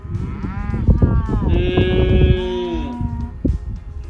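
Cows low loudly nearby, overlapping deep moos that stretch and bend in pitch, with a brief higher call in the middle.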